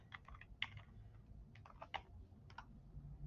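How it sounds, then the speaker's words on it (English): Fingers type on a computer keyboard in a quiet room, a short run of light, irregular key clicks. "Let me go up here and type that in."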